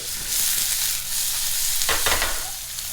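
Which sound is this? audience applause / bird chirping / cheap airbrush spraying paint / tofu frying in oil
tofu frying in oil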